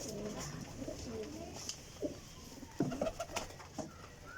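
Flying pigeons, including round-cut hens, coo nearby in soft, low, throaty bursts that grow more frequent toward the end, over a quiet background with a hint of human presence.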